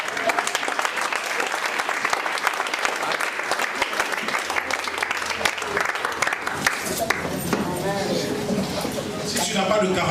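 A church congregation applauds and cheers in sustained, dense clapping that fills the room, while a voice speaks and calls out over the crowd.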